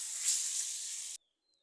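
Chopped Ganapathi citron hitting hot oil while being sautéed for pickle gives a loud, steady sizzling hiss for about a second, then cuts off abruptly into near silence.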